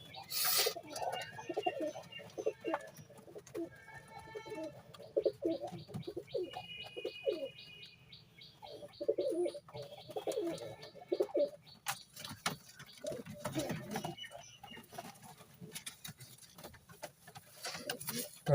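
Green Giribaz pigeons coo in low, repeated throaty bursts close by from their coop, with occasional flutters and clatter, and some chirping in the background.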